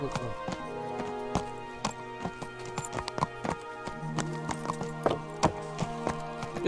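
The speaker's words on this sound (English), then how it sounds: "Just taking the horse for a quick trot." A horse trots in the medieval video game Kingdom Come: Deliverance, its hooves giving a steady, fairly close clip-clop rhythm throughout as someone talks over it.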